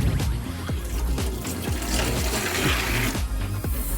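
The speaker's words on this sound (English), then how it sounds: "I give her water, then I put it on her food to make it kind of like a little soupy" Water is poured onto a dog's food to make it soupy, a close, continuous splashing and gurgling pour with repeated low gulping pulses throughout.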